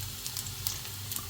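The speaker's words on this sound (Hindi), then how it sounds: "इसमें मैं ऐड कर रही हूँ अदरक लहसुन," Ginger and garlic hitting hot oil in a pan, giving a steady close hiss of sizzling that holds evenly for a moment with no voices.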